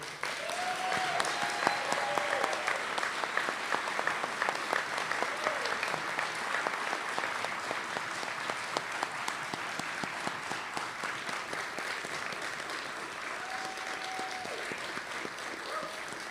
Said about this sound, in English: Let's give one last round of applause for our 9 honorees today.